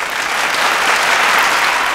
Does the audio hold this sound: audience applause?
yes